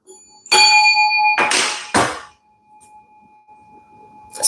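A bell struck a few times, a bright ringing tone sustained over a second with clanging hits, then a long faint lingering hum and another strike at the end.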